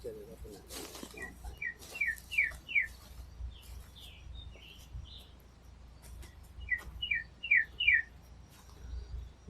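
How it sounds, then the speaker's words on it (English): Birds in the Vermont woods sing in short, bright bursts of quick descending chirps, two clear phrases separated by a pause, with a soft coo and faint rustling in the quiet forest background. "They're chirping away."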